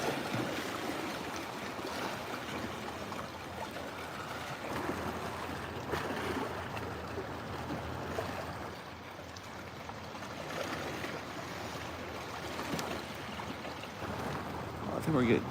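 Waves from passing boats wash through Haulover Inlet in a steady, broad surging rush, with swells rising and falling over a constant background of moving water, and wind or distant weather adding to the noise.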